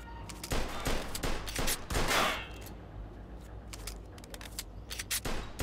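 Enemy gunfire in the Mafia 2 video game: a burst of rapid shots, then a lull and a few more scattered shots, loud and close.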